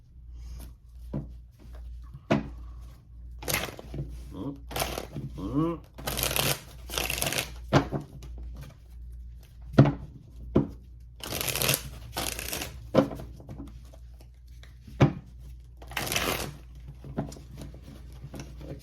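Tarot cards are shuffled by hand in repeated riffling and sliding bursts, close and crisp, with soft taps between them and a person talking over parts of it.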